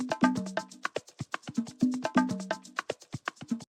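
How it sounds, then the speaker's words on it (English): A basic percussion loop from a sample pack for Afro house plays on its own. Quick, tight hand-drum hits with tonal tom-like notes repeat in a busy, syncopated pattern, fairly dry and close, with no voices. "I just added a very basic percussion loop from one of our packs as well."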